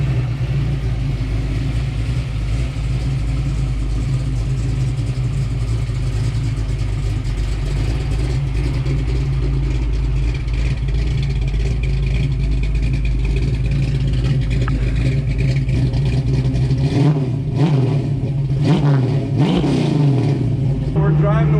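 A 1967 Ford Mustang race car engine, still cold, idles with a deep rumble and is blipped through several throttle revs near the end, loud and close.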